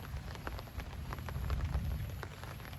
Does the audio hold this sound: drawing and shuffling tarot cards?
no